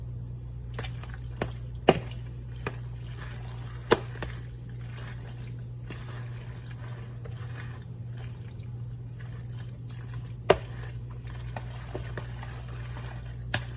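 Shredded cheese and sauce being stirred together for baked ziti, soft wet squishing with occasional sharp clicks of a utensil against the dish over a steady background hum.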